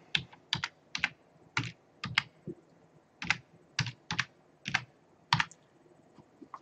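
Quick bursts of clicky keystrokes on a computer keyboard, close and clear, tapped in short irregular clusters with brief pauses.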